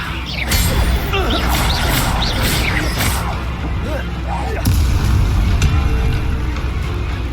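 Spell effects from Hogwarts Legacy, a run of whooshing bursts and crashing magical impacts in quick succession over a busy, dense game soundscape, loud and close, with a voice speaking between the casts.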